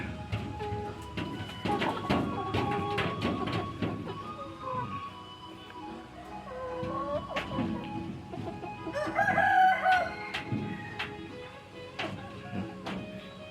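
Chickens cluck and a rooster crows repeatedly at close range, with scattered pecking and clatter around them; a low murmur of voices sits underneath.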